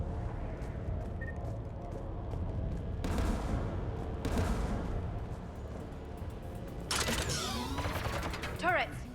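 Mass Effect 3 Legendary Edition turrets fire in several sharp, rattling bursts: one near the start, another soon after, and a longer, louder volley toward the end, all set against a low, rumbling background of game noise.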